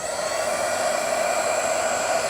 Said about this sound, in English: It's like a little hairdryer. It's basically what it is. But for candles.